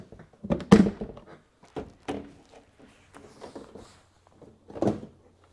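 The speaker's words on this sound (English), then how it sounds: "And now the door skin should just pop off." A few dull thunks and snaps of a Mk5 Volkswagen Golf door panel popping loose, spaced irregularly, close by with no talking.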